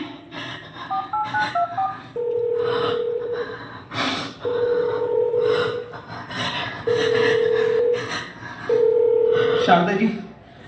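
A telephone being dialed, with a short run of quick tones followed by several longer, steady dial beeps at regular intervals, moderately loud, while a voice speaks between them.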